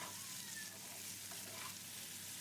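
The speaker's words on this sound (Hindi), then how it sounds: "बस इतना ही हमने भिंडियों को फ्राई करना है।" Okra sizzling steadily in hot oil in a pan over a medium flame, a dense, even crackle and hiss close by with no voices.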